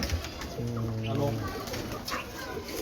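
Breeder pigeons on a rooftop in Lahore give a low, brief cooing burst near the start, over a steady hiss of outdoor background noise.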